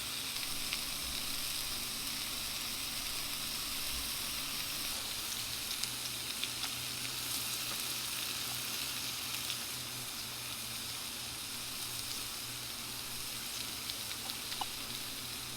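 Pork belly grilling at a rainy forest campsite, giving a steady, dense sizzle and crackle of fat that carries on without a break, close and even in loudness, with no voices.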